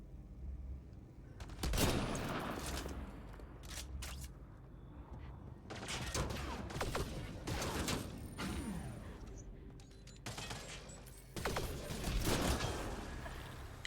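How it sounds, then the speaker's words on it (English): Heavy gunfire in the sci-fi shooter Mass Effect Andromeda, several separate bursts of rapid shots in clusters with short lulls between them, mixed with mechanical clanks and impacts, fairly loud and close. "We're really taking heavy fire."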